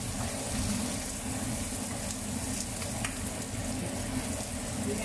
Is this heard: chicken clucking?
no